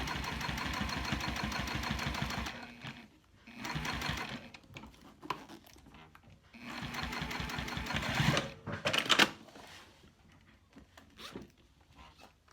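A sewing machine stitching Sileather fabric, rapid mechanical needle chatter in several bursts separated by short pauses, close and clear.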